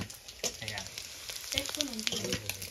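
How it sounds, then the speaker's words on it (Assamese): Potatoes fry in a pan nearby, a crackling sizzle with scattered sharp pops and stirring scrapes. "আলু ভাজি আছে"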